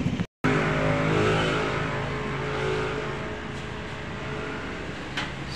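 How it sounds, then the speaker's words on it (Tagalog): Steady road traffic noise with car engines and tyres rumbling close by, a continuous broadband wash that briefly cuts out near the start and then carries on without talk. "Sobrang traffic"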